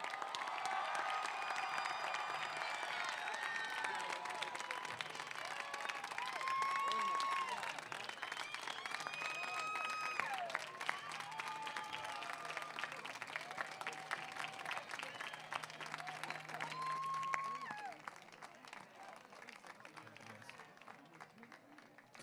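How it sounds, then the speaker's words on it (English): A graduation ceremony audience gives sustained, dense applause for the Class of 2023 graduates. The clapping runs steadily for about eighteen seconds before fading, with scattered cheers and voices mixed in. "how about a big round of applause for our class of"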